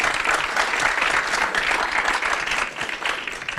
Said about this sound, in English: give them some applause.